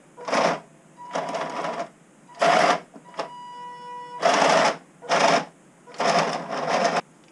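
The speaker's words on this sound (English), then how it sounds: "I programmed a dead spot into this, so that it wouldn't just always be making the PWM noise" A 1/16-scale RC Maus tank's electronics and motor running, giving several loud bursts of buzzy motor drive noise with a steady high PWM whine between them, close up with no talking.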